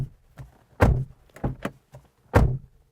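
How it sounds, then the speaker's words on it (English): A 2022 MG HS PHEV plug-in hybrid SUV door is shut several times in a row, giving close, solid thunks with short gaps between them and no talking. "And then door test."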